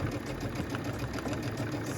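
A sewing machine stitches a fabric glasses case, a steady close whirring hum with rapid needle ticking running continuously for a couple of seconds.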